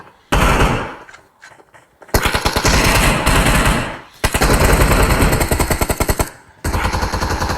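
Sustained automatic gunfire in the PUBG Mobile video game, with loud dense bursts of rapid shots separated by short pauses and continuing in long rattling strings.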